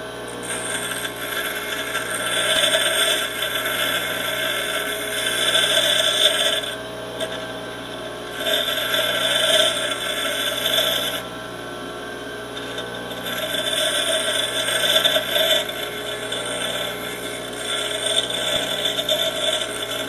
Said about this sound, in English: in order to get it started, I need to recut the bevel on it